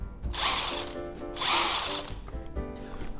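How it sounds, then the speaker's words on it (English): A cordless three-speed impact wrench running at its top speed, setting 3, in loud harsh bursts of rapid mechanical hammering with short pauses between them, heard up close. "I really, really like this impact wrench."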